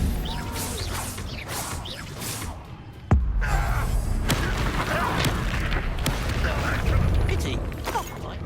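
Incendio fire spell cast in the Hogwarts Legacy video game: a sudden loud whooshing burst of flame at about three seconds, followed by crackling, rumbling magical combat effects that stay loud throughout.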